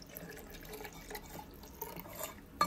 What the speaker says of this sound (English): Now I've got myself some triple distilled mountain range tap water. Add in about 4 cups of that.